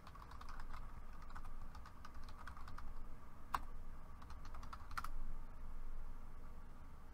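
Computer keyboard typed in quick, light clicks while entering an Alt code for a degree sign, soft irregular keystrokes close by with no talking.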